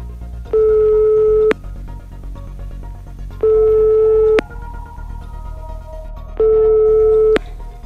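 Telephone busy signal heard when calling a home phone: three loud, steady beeps of about a second each, separated by short gaps of quiet line hiss, with no talking.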